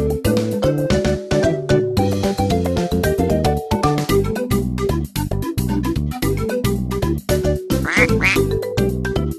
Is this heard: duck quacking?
yes